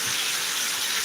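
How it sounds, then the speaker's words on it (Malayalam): Summer rain pours steadily nearby, heard from under a covered shelter as a dense, even hiss that holds at the same level throughout, with no voices. "ഇപ്പം ഇവിടെ മഴ പെയ്തു"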